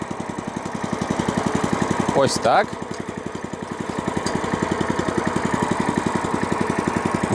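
A small single-cylinder walk-behind tractor engine running in first gear chugs in a steady rapid rhythm, close and loud, while someone speaks briefly over it.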